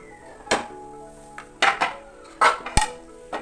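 Metal pan clanks and scrapes against a stovetop a few times while vermicelli ada cooks, sharp clattering hits with short ringing tails, no voices.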